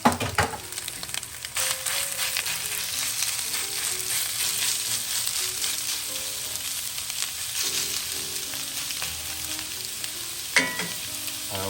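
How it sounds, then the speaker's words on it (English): Sausage browns in a hot cast iron pan for a frittata, giving a loud, close, steady sizzle with occasional stirring scrapes and a sharp clatter near the end, over faint background music. "when your pan is hot, throw your sausage in."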